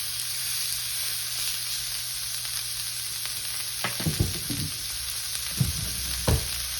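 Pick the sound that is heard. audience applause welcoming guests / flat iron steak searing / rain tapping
flat iron steak searing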